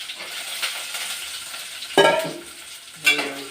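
Slices of bitter gourd (ampalaya) fry in a frying pan with a steady low sizzle, broken by two sharper bursts as the pieces are stirred. No one speaks.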